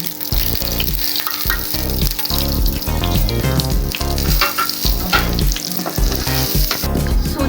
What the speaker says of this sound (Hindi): गरम हो गया, अब हम इसके बीच सूजी डालते हैं।